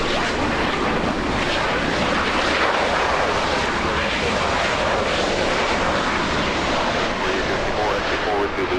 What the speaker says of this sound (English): We have the little CRJ coming in.